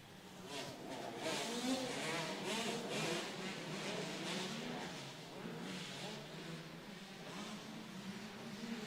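Two-stroke schoolboy racing karts heading into turn one at a barn race event, making a buzzing, insect-like engine drone that swells and fades, heard from a distance with a faint announcer voice over it.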